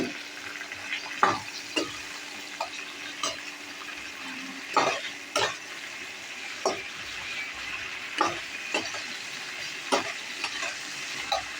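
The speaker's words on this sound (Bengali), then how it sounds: "আর পেঁয়াজ টমেটো হালকা ভাজা হয়ে গেছে" Chopped onions, tomatoes and green chillies fry gently in a pan, a soft steady sizzle broken by repeated scraping stirs of a spatula, close and fairly quiet with no talk.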